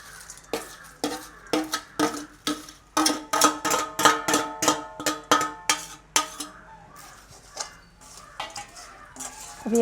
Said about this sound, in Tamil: அப்படியே சேர்த்து அப்படியே கிளறி விடுவோம்